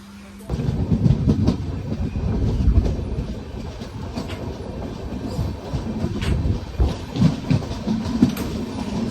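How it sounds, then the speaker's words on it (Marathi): A passenger train on the Sambhaji Nagar to Hyderabad route pulls out of a station and gathers speed, heard from inside the coach as a steady low rumble with rhythmic wheel clatter, plus faint voices in the background. "आता ट्रेन पण निघली आपली. ट्रेनने बी जरा रफ्तार धरले आता नाही का, हळूहळू रफ्तार धरले ट्रेन."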